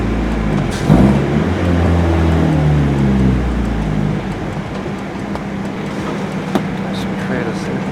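A turbocharged Mazda Miata roars on a dyno, its engine note climbing steadily before breaking off sharply at boost cut, loud and close with voices talking around it.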